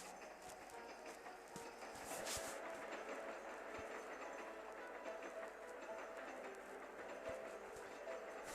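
A train rolls past at a distance, a steady rumble with rhythmic clicking of wheels over rail joints.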